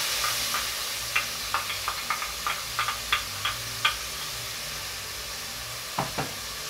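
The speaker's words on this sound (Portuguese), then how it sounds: "Vamos estar refogando aqui a nossa cebola." Onion sautés in olive oil in a pan for rice, with a steady low sizzle under a run of light, irregular taps and knocks from a stirring utensil.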